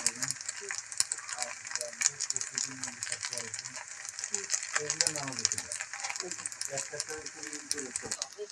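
Pasta being stirred with pasta masala in a pan, with a faint sizzle and scattered scraping and rattling strokes running beneath a person talking throughout.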